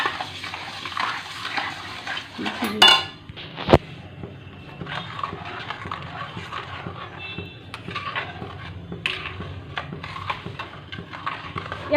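Mango juice and sugar stirred together in a pan for jam, a steady low scraping and swishing with a few louder knocks of the spoon against the pan, close and continuous.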